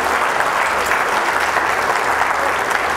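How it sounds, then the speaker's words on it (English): Steady applause from a church congregation during a service fills the whole moment, dense and continuous clapping without pauses. "Yes, go ahead, applause"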